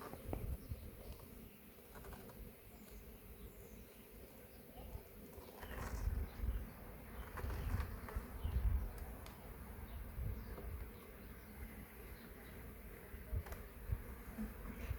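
Honey bees hum around a beehive frame during a spring hive inspection, a steady low buzzing drone with a rising swell in the middle, joined by faint handling noises and distant birds.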